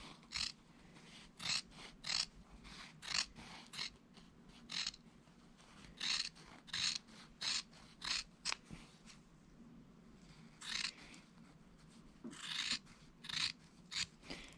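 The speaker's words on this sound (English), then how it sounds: "use some nice sharp scissors and trim this one down to about 1/8 of an inch" Sharp scissors trim a fabric seam allowance down to an eighth of an inch with a series of crisp, close snips in irregular clusters, separated by short quiet gaps.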